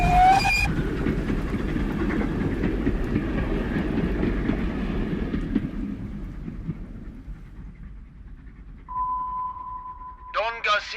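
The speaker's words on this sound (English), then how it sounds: "I climbed on a night train" A night train to Granada rumbles and clatters along the tracks, gradually fading away, followed by a steady tone and a brief burst of noise at the end.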